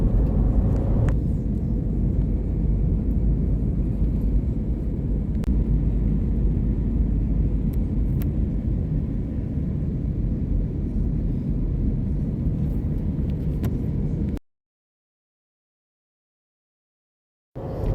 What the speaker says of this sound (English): this is the video clip of the landing